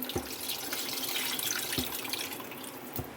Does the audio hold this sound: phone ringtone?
no